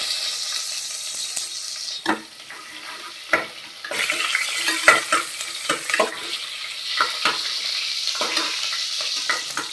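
Onions sizzle in hot oil for an ivy gourd curry while a spoon stirs them with close, irregular scrapes and taps over a steady frying hiss.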